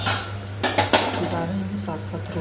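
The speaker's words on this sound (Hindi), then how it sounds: "अब इसको तेज़ आंच पर भून देती हूँ" Metal spoon scraping and clinking against a pan as masala is stirred and fried on high heat, a few sharp close knocks over a steady sizzle and hum, with light talk in the background.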